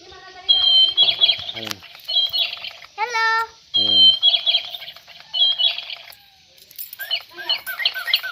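Chirping, warbling tweets from a bird statue said to have been turned to stone, in repeated close, loud bursts with short pauses, and a voice speaking briefly between them.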